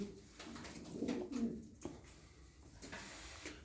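Tumbler pigeons in a coop give soft, low cooing calls, several murmuring coos rising and falling close by over a faint background of shuffling and rustling.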